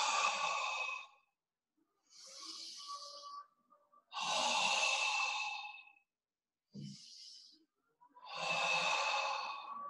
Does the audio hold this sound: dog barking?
no